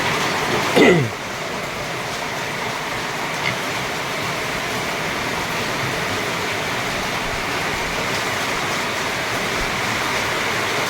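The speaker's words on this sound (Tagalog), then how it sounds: "lakas na naman ang tulo ng tubig" Heavy rainwater drips and pours steadily around a goat house during monsoon rain, a dense continuous hiss with one brief louder splash near the start.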